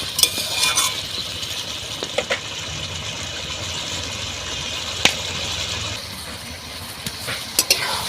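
A Bengali-style golden fish curry is stirred in the pan after water goes in, with a soft bubbling hiss and a few scattered spoon clicks against the metal, near and moderate in level.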